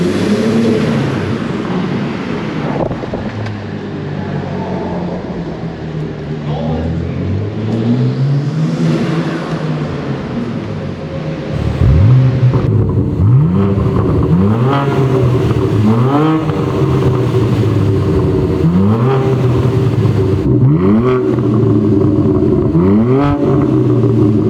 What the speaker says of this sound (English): we can do some revs in a parking garage so you guys can hear what that sounds like